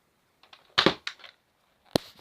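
Nerf dart gun shot: light plastic clicks of priming, a sharp pop-thwack of the dart leaving the barrel, then another short snap a second later, all close and dry.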